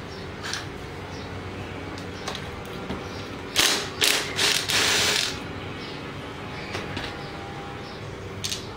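A ratchet works a 10 mm bolt on a Snapper mower: faint rapid clicking of the pawl with a few louder bursts of handling and knocks in the middle, close up, without talk.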